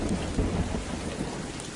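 Steady, dense rainfall with rumbling thunder in a film scene, a continuous wash of rain close by with no voices over it.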